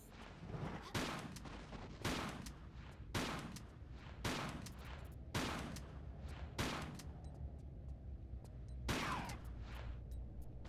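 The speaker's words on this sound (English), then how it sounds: "I guess we could go ahead and use our shotgun on it." Repeated shotgun blasts from the Tomb Raider: The Last Revelation video game, about six loud booming shots spaced roughly a second or two apart, each with a decaying tail over a steady game ambience.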